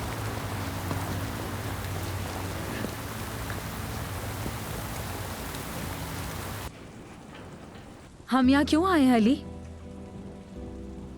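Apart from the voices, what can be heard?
rain falling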